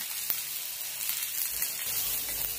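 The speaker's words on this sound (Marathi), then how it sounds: "आता कांदा भाजून घेऊया. कांदा गुलाबीसर भाजूया." Onions sizzle and fry in hot oil in a pan, a steady, close, hissing crackle with small pops throughout and no voices.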